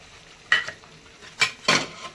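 Green masala paste stirred into browned chicken for Malvani sukka chicken, a spoon scraping the pan in three short bursts over a soft sizzle.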